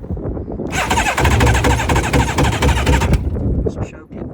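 A jon boat outboard motor cranks and briefly catches with a loud, rapid sputtering burst of about two and a half seconds, then cuts out, leaving faint handling noise.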